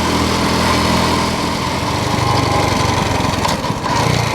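Honda Cub C90 motorcycle engine riding through the city with two people aboard, a loud continuous buzzing single-cylinder drone with steady rumble and wind, no breaks throughout.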